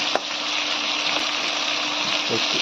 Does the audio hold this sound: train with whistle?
no